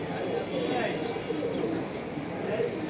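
Pigeons at a bird sale coo in soft, repeated low murmurs, close by, with muffled voices in the background.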